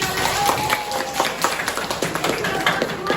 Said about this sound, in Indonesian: beri tepuk tangan untuk Tasya